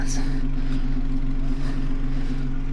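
Vehicle engine with dual exhaust idling close by, a steady low rumble with strong low hum bands throughout, with talk over it.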